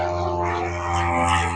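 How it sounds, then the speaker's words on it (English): A low-flying crop duster airplane drones overhead above a farm, a steady loud buzzing engine tone with strong harmonics, no talk. "If you're wondering what that sound is, that's Crop Duster."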